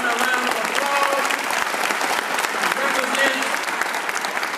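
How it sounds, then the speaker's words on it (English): A university lecture audience gives a sustained round of applause, dense steady clapping throughout with faint voices mixed in. "Let's give this great, outstanding African-American woman a round of applause"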